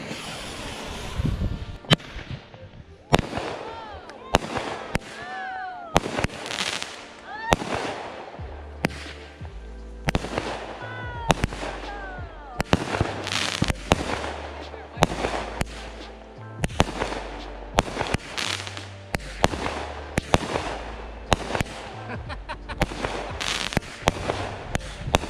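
A 24-shot firework cake called Wake the Neighbor goes off at night on the Fourth of July, a quick series of loud launch thumps and sharp crackling bursts, close and evenly spaced, with people briefly cheering.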